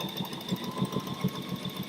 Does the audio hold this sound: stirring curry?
no